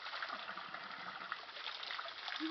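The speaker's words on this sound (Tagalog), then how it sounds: "This is the water coming down from the mountain." Fresh mineral water flows down from a mountain, a steady close rushing and trickling stream that continues without pause.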